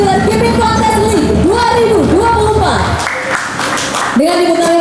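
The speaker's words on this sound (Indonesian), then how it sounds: "Tepuk tangan sekali lagi yang meriah" Crowd applause bursts out for about a second after a melodic musical passage at the opening ceremony of the Indonesian Japan Koi Dealer Keeping Contest 2024, with the music resuming afterward.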